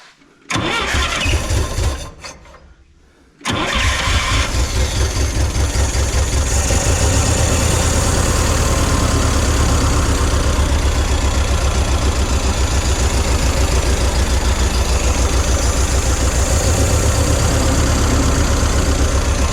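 A Yamaha MY60 small engine runs steadily at idle after a spark plug change, starting up after a brief quiet gap and then holding a loud, continuous, uneven chug with a slightly rough, choked character.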